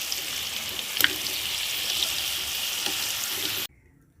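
Steady, bright sizzling of fermented cassava deep-frying in hot oil, with a couple of faint clicks, cutting off abruptly just before the end.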